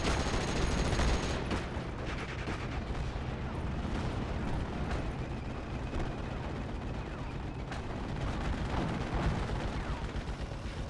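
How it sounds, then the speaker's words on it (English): Artillery fire in Steel Division: Normandy 44, a continuous barrage of heavy booming shots and crackling gunfire layered densely over the full stretch, loud and unrelenting with no clear pauses. "That artillery is really obnoxious."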